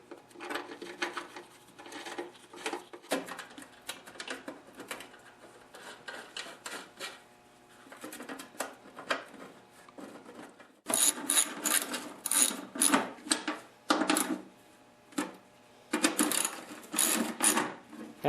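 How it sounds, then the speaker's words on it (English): Bolts go back onto the cover of an Ariens snowblower with a ratcheting tool, giving close, rapid clicking and rattling bursts that start and stop, louder in the second half. "And now you want to put the bolts back on."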